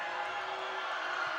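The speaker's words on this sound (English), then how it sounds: "Crowd trying to distract him. Fans getting loud." A high school boys' basketball crowd roars loudly during a free throw, a dense steady wall of cheering and shouting from the stands with no break.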